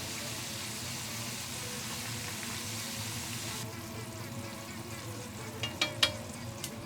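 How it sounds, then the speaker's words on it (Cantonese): Onion chilled in the freezer, lowered whole into oil at about 170 degrees for a blooming onion, bursts into a dense, steady sizzle that eases slightly partway through, with a few sharp clicks near the end. "油溫係差唔多170度啦。 洋葱咧就放落去啦"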